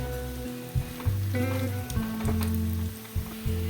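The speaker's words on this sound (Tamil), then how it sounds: "இப்போ நான் வந்து மாவு எல்லாத்தையும் போட்டதுக்கப்புறமா கேஸை கொஞ்சம் பெருசாக்கிட்டு நல்லா வேக விட்டுடுவோம்" Wheat flour onion bondas fry in oil on a stove with a close, steady sizzle and bubbling, broken by a few brief clunks and a low repeating hum, with no speech.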